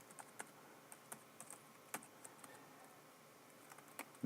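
Fingers tap on a computer keyboard while a phone number is entered into an online form, a light, uneven patter of close keystrokes with short pauses.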